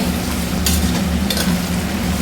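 Chopped beans fry in a pot with a constant crackling sizzle and two brief scraping stirs, close and fairly loud.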